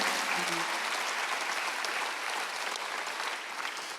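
A church congregation at a Sunday service breaks into sustained, even applause, a broad close wash of many hands clapping with no voices over it.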